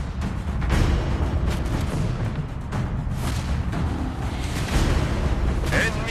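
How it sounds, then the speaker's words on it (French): The warship Laredo's naval guns firing at full power in the Battleship video game, a loud, dense, continuous booming rumble with heavier swells throughout. "Le Laredo tire à pleine puissance."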